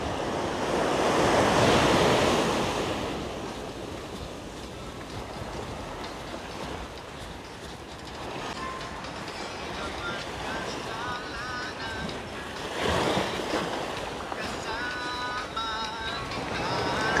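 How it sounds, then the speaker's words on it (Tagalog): Strong waves break on the rocky shore of Lamma Island, Hong Kong, in a broad rushing roar that swells early, eases, then surges again, heard from close by under outdoor wind. "Ang ano talaga ng alon dito, ang lakas."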